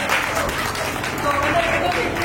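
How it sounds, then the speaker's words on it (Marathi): A brief burst of audience clapping at a lively stage event, heard under an announcer's voice and blending with crowd noise for a couple of seconds. "टाळ्या वाजवतात"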